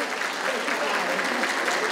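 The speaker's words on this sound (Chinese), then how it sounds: "我们是不是为自己掌声鼓励一下？" Audience applause fills a year-end company party hall, a dense, steady wash of many hands clapping at even loudness throughout.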